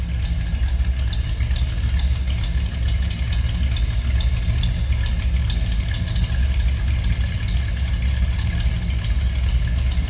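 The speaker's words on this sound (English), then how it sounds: "Nice rumble coming out of that 283." A 1957 Chevrolet Bel Air two-door hardtop's 283 V8 idles close by with a continuous deep, even rumble that holds steady throughout, with no voices over it.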